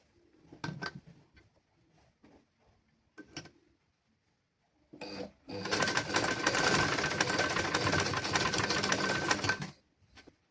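Sewing machine stitching a child's garment in a basic tailoring class. A few soft handling clicks and brief noises come first, then a loud, continuous mechanical whir of stitching lasts about four seconds before stopping abruptly.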